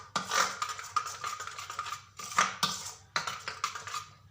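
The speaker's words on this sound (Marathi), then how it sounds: "याला असं मिक्स करून घेऊया" A spoon stirs dhokla batter in a bowl, giving quick rhythmic scraping and clinking strokes in several bursts with brief pauses, close and moderately loud, no voices.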